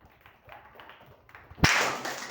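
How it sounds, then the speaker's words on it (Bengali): In a classroom division game, a group of children breaks into a sudden burst of clapping for a student after a few faint taps. "সাথীর জন্য একটা হাততালি"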